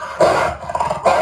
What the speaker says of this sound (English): It starts with this dog barking.